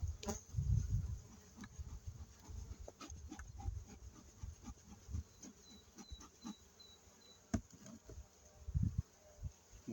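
Honeybees around an open hive being inspected ahead of the acacia honey flow, a close, wavering buzz of individual bees with scattered knocks and handling noises, and no clear talk.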